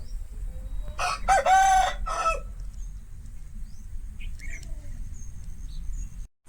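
An Aseel rooster crows once, loud and close, a long ringing cock-a-doodle-doo over a low steady background hum, followed by quiet.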